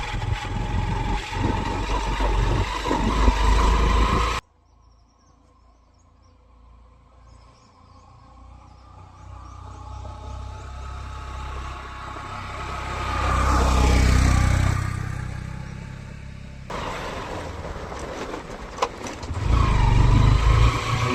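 A Honda SP 125 motorcycle engine strains up a steep slope in first gear, loud and close at first, then dropping to a muffled low drone with wind noise before the engine roar swells back near the end.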